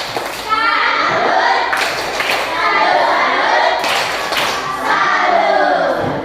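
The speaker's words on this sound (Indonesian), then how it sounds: "Tepuk tangan buat Safira." Classroom applause for a pupil, children clapping together loudly and steadily for several seconds, with bursts of hand claps and kids' voices mixed in nearby.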